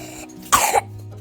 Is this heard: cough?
yes